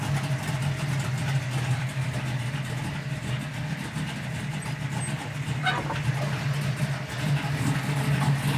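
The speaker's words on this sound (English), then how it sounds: "It's got a nice cam in it and that low idle" A 1968 Camaro SS V8 engine with an aggressive cam idles with a deep, steady, lumpy rumble, loud and close throughout, with a faint higher noise briefly in the middle.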